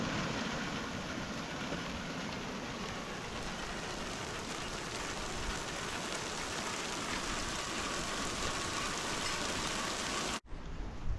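Steady rain pouring down on a waterfall hike, a dense even hiss of drops close by that runs unbroken for about ten seconds and then cuts off abruptly, with no talking.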